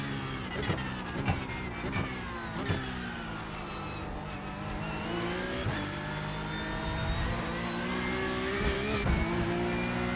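A Porsche Cup race car engine drones loudly and continuously on a race track, its pitch climbing through revs with repeated sharp breaks at gear changes; no one speaks.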